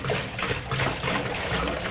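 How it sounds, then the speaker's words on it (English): Regular water pours steadily from a jug into a Nimbus machine, a continuous close trickle and splash with no break for about two seconds. "We're going to pour 5 gallons of regular water in it."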